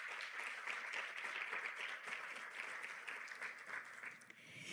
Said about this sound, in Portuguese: Dei uma forte salva de palmas para Jesus